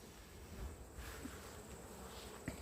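Honey bees around a frame hive give a faint, continuous low buzzing, with a few soft knocks and rustles mixed in.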